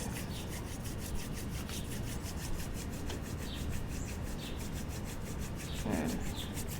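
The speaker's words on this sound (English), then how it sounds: "If your hands are cold, you can rub them together" Two hands rubbing briskly together to warm up during a yoga session: a quiet, close, continuous dry friction with a regular back-and-forth rhythm and no talking.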